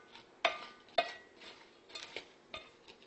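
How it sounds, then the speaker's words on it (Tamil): Mango pieces tossed with salt and turmeric in a bowl, a spoon scraping and clinking against the sides in a few sharp knocks with softer stirring rustles between, close and fairly quiet, no talk. "போட்டு நம்ம கிளறி வச்சிட்டோம்"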